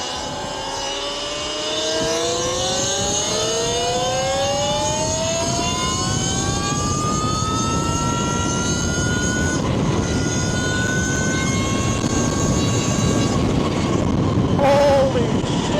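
A 72V Talaria electric dirt bike pulls hard under partial throttle, its rising electric whine sweeping upward in several layered tones over steady road and wind noise, close and loud throughout.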